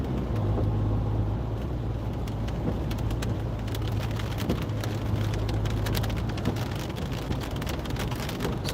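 Steady rain, with hail mixed in, drums on the roof and windscreen of a car driving from Wigan to Ashton-under-Lyne in the UK. It forms a dense, continuous wash with scattered sharper taps and a low road rumble underneath, and no one speaks.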